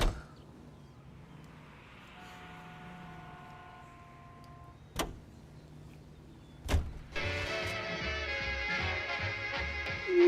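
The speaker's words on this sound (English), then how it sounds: "We're stealing a car." In the L.A. Noire video game, a car is broken into and taken, with a quiet cabin hum, two sharp clicks or thumps, then a loud buzzing power-window motor, and no talking.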